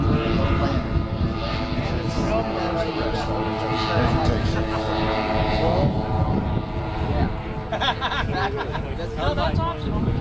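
A radio-controlled model B-29 bomber lands at an airshow, its engines making a steady, droning buzz throughout, with a crowd murmuring and an announcer talking over it.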